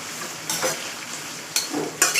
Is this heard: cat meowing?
no